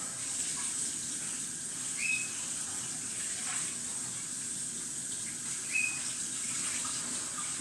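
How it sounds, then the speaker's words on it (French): Tap water runs steadily into a sink while cooked cod and potatoes are rinsed under it, a constant close hiss with a couple of faint squeaky chirps over it. "Et je vais les passer sous l'eau"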